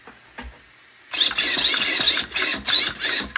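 Steering servo of a 12s Traxxas X-Maxx RC truck on a Vitavon 7075 chassis with a Reefs Beast 1000 servo, turning the front wheels: a high-pitched whining mechanical buzz that starts abruptly and pulses in several near, loud bursts.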